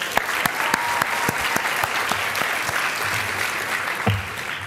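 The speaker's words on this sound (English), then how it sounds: "One more round of applause. One more." Audience at a college athletics awards ceremony applauding, a steady dense wash of clapping with some sharper individual claps standing out, sustained at moderate loudness throughout.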